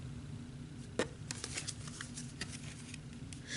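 Tarot cards being shuffled by hand, a soft continuous riffling and patter with a few sharper flicks, close and quiet over a low steady hum.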